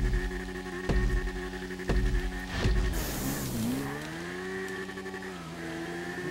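An Akuma motorcycle in GTA 5 Online revs hard with rhythmic throttle bursts, then its engine whines and sweeps in pitch as the bike surges and skids, steady and close with no talking.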